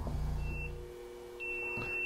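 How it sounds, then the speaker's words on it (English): A laboratory incubation timer for an ELISA test sounds two quiet, steady electronic beeps, a short one and then a longer one, over a low hum. "When the buzzer goes off, this has been incubating for 30 minutes."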